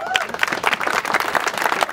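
An audience at a Toronto talk on seed libraries breaks into applause: dense, scattered clapping that keeps going for two seconds, with voices mixed in.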